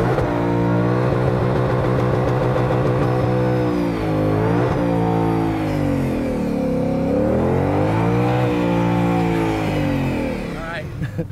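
A 2020 Ford Mustang Shelby GT500 on a drag strip, engine droning loud and close as revs rise and fall through gear changes, with talk over it.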